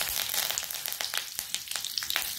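Curry leaves dropped into hot oil with mustard seeds and cumin for a Maharashtrian alu gargati bhaji, crackling and sizzling loudly and continuously up close, with dense popping spatters and no voices.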